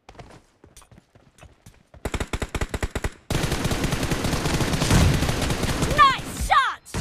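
M416 assault rifle fire in a shooter video game, sparse single shots then a rapid automatic burst followed by dense sustained gunfire and effects, loud and close.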